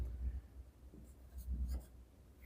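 A pen writes a math equation on paper, faint scratchy strokes in short bursts close to the mic over a low background rumble.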